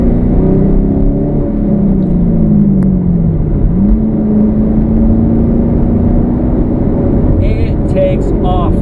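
A 2015 Chevy Camaro SS 1LE pulls hard in a lower gear, its loud, close engine note sweeping up, dipping at a shift, then climbing steadily again, with a brief higher sound near the end.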